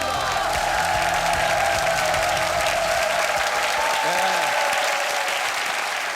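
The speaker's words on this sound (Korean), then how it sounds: "박수 보내주세요" A TV studio audience of army reservists and soldiers from the Baekdusan unit applauds in a sustained, loud roll of clapping, with music and a voice underneath.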